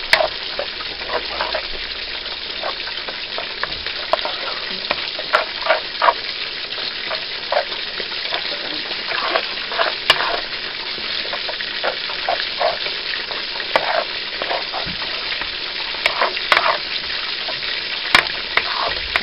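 Ingredients stirred together in a frying pan for creamed spinach, with a steady sizzle running throughout and repeated scraping strokes of the spoon, close and fairly loud, no talking.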